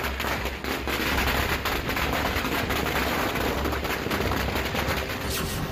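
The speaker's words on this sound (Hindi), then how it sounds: "आतिशबाजी, फायरिंग का अद्भुत नजारा।" Gunfire and fireworks at a Holi battle re-enactment in a Rajasthan village, a dense roar of overlapping shots and bursts, rapid irregular cracks and booms layered loudly over crowd noise.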